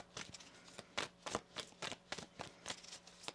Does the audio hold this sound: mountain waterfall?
no